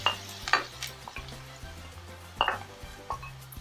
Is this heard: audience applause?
no